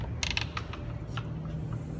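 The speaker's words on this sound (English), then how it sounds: "So this is the door, and I'm going to open the door now." Door of an exhibition building swung open, giving a few short creaks and mechanical clicks from the latch and hinges over a low steady room hum, fairly near and moderately quiet.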